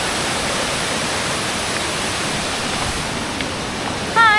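Steady broadband rush of Sabang Falls pouring down beside the sea, a continuous close roar of falling water that fills the whole clip, with a brief louder splash or voice rising at the very end.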